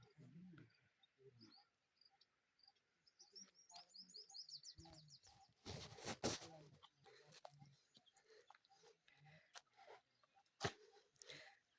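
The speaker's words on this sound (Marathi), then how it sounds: "काय तो पक्ष्यांचा आवाज, किलबिलाट" Birds chirp and twitter in short bursts across lush green farm fields, scattered calls near and far with some sharper clicks and faint voices in the background.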